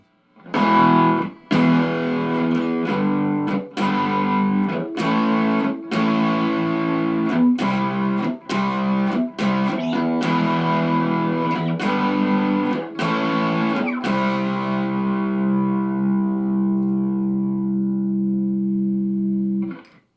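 Electric guitar barre chords played through distortion, strummed in a steady sequence of full, sustained chords, with the final chord left ringing and slowly fading.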